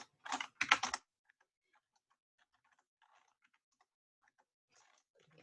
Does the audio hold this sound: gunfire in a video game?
no